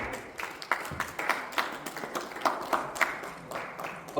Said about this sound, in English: A big round of applause, that's the last clap.